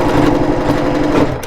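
A sewing machine runs continuously, stitching a blind hem on fabric, a close, steady mechanical whir lasting the whole moment with no talking.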